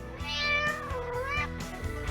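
A cat meows in one drawn-out, rising then falling call, close and clear, followed by a shorter second cry.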